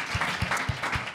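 A studio audience at a Spanish TV comedy show applauds Eva Soriano with steady, dense clapping that fills the whole brief moment at close range, with no talk over it.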